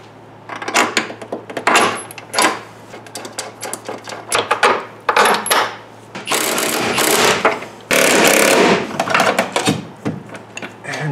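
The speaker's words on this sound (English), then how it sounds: "Okay, now we'll put the control arms in. They're tubular control arms." Tubular control arms going into a third-generation Camaro, with a run of loud metallic knocks, clunks and rattling taps in bursts, plus a few longer scraping stretches, all close by.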